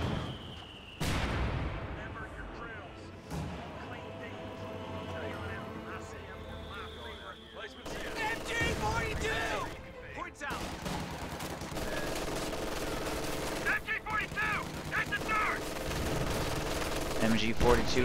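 Artillery, pack howitzer and MG42 machine gun fire in a World War II strategy game battle, sharp bursts and booming impacts repeating throughout at moderate loudness, with a commentator talking over them.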